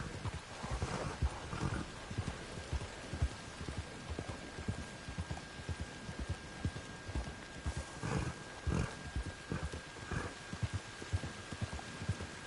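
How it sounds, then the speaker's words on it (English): Horse hooves clip-clopping at a slow, uneven gait in the video game Red Dead Online, riding through rain, with repeated thuds over a constant hissing background. "The other thing that's annoying too is when this horse rides slowly in the rain"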